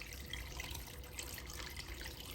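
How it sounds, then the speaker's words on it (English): Water runs into a pot of gizzard and whole garlic for boiling, a faint, steady trickling pour with no voices. "we add water to boil"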